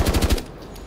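A G36C rifle fires a quick burst of about four rapid shots in Rainbow Six Siege, loud and close, followed by a brief fading echo.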